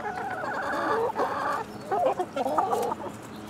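Chickens cluck in short, rapid bursts nearby, two clustered runs of clucking with a brief gap between, fairly soft against a quiet outdoor background.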